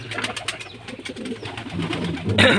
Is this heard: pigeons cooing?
yes